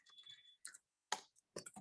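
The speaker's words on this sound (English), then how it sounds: "So I'm typing book review" Computer keyboard typing by a teacher preparing an online task, heard as short bursts of soft key clicks separated by brief pauses, close up and quiet.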